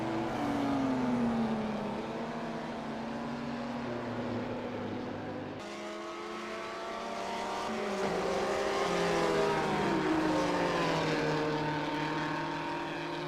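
Racing cars from 1958, among them a small Lotus against bigger cars, rev hard on the Goodwood circuit, engine pitch rising and falling as they pass, with a sharp change midway as one car gives way to another.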